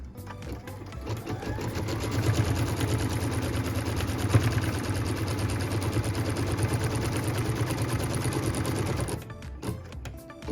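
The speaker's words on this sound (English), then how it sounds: "What we're stitching now is the tack down line for piece number 6." Sewing machine running steadily at close range while stitching a tack-down line on a quilt block, a continuous dense mechanical whir that holds for about nine seconds, then stops with a few faint handling sounds.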